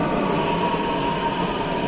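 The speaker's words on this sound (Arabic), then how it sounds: "ها هو المترو جا. غادي نركبوا في المترو دابا." A metro train arriving at a station rumbles with a steady, loud roar and hiss, continuous throughout, with faint voices in the background.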